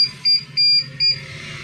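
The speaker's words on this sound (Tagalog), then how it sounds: "nag-beep siya kasi walang nakalagay na hard drive dun sa ating DVR" A Dahua DVR with no hard drive installed sounds a loud alarm beep that repeats three times in quick succession. Each high, piercing pulse lasts about a fifth of a second and is clearly audible over a low background hum.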